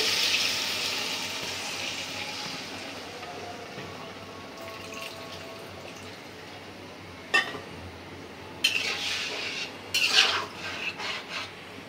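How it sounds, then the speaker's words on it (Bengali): Broth goes into a pan of Surma fish curry that has been frying. A soft sizzle and stirring scrape lead to sharper splashing bursts and clatter near the end. "মাছটা কষানো হয়ে গেছে, এখন ঝোল দিয়ে দিব একটু।"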